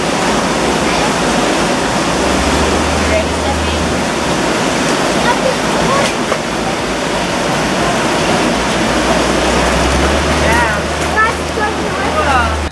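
Fresh mountain water pouring out of rock on a trail near Pulpit Rock, Colorado, a loud, continuous rushing splash with no pauses.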